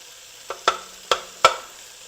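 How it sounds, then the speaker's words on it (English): Four short crackling bursts of ginger and vegetables for fried rice sizzling in a hot pan, with quiet gaps between them and no talk. "hear the sizzle going"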